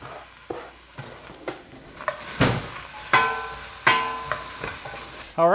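Onions and garlic sizzle softly in a pot, with intermittent scrapes and clinks of stirring against the metal and a low background hiss of frying, close up and fairly quiet.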